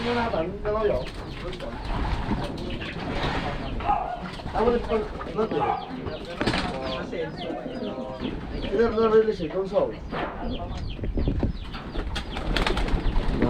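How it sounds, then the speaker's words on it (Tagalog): Many pigeons coo and cluck nearby in a busy, continuous chorus, with wings flapping and people talking over them throughout. "Ang daming ibon"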